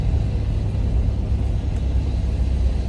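A cheap, salvage-auction Buick Reatta with weak brakes drives along on a humid day, its engine and road noise forming a continuous loud rumble as it works through gear shifts.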